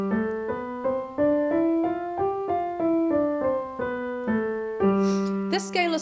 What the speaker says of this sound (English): This scale is called Mixolydian